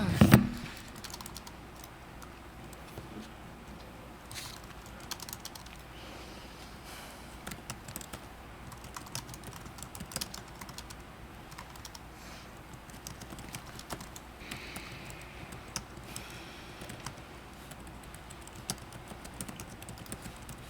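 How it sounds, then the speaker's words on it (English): Computer keyboard typing comes through as sparse, faint clicks scattered over about twenty seconds of quiet room tone during a city council meeting, with a brief noise at the very start. "Yeah, I'm still typing."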